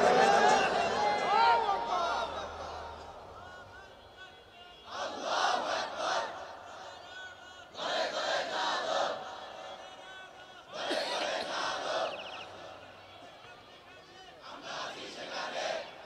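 A large crowd at a Bengali Islamic sermon gathering shouts takbir in repeated, loud collective bursts, alternating with a lead voice calling out between the chants.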